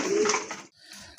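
Pigeons kept for sale coo softly, a short low throaty call up close, followed by a quieter pause and faint rustling.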